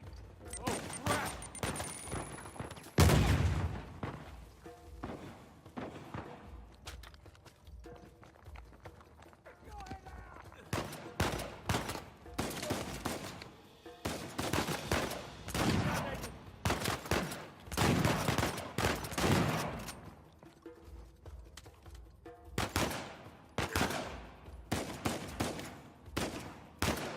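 Repeated bursts of video-game gunfire and a grenade blast in Uncharted, loud and clustered into volleys, with characters' voices shouting between the shots.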